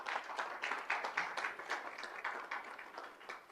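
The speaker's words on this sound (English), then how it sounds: "One more round of applause for our school leaders." A room at a school district governing board meeting gives a round of applause for school leaders, a moderate wash of many hands clapping steadily at a distance for several seconds.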